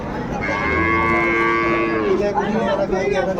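A cow moos in a long, loud, sustained call at a crowded rural cattle market in Dinajpur, where dairy cows and calves are being traded, with a drawn-out, wavering tone that fades into market bustle.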